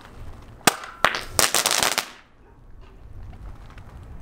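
A homemade firework launcher fires a lit firework with two sharp cracks and then a rapid burst of loud pops. A quieter outdoor background follows.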